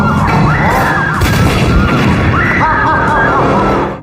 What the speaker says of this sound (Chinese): 突然一阵爆炸